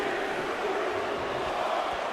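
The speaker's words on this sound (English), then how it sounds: "Listen to this crowd." Arena crowd in the WWE 2K19 video game during a 20-man Royal Rumble match, a steady broadband roar of cheering that holds at an even loudness throughout with no clear talk over it.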